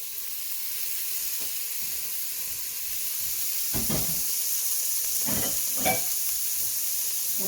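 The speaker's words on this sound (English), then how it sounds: "So we're going to throw our onions, celery, carrots, and 4 cloves of garlic in here." Onions, celery, carrots and garlic saute in olive oil for Italian wedding soup. A soft, even sizzle and hiss carries throughout, broken near the end by a few louder bursts as the vegetables are stirred.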